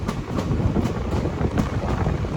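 53181 Lalgola Passenger train arriving at Murshidabad Junction, with a steady loud rumble of railcars and rhythmic wheel clatter over rail joints, close and continuous, with some wind buffeting.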